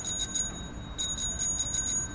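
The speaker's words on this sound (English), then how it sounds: "At least the bell works." A bicycle bell on a worn-out bike in the video game A Way Out rings in two quick bright trills of repeated dings, fairly close and clear over a quiet background.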